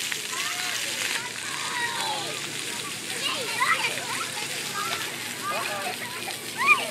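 A small child stomps and splashes through shallow water, with irregular sloshing splashes close by and a voice and chatter mixed in throughout.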